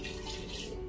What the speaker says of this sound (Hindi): उसमें पानी डाल देना है 1 गिलास